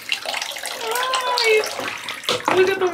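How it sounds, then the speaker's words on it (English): Tap water runs steadily into a baby bathtub during a little boy's first bath, a splashing stream heard close by as someone talks over it. "look at the water coming out."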